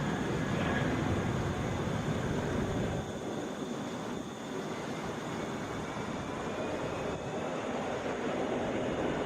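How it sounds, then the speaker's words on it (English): A Southwest Boeing 737 MAX 8 arriving at Atlanta airport, a steady broad engine roar that stays loud and close throughout with no talk over it. "Southwest 594 coming in from Little Rock. That's a Boeing 737 MAX"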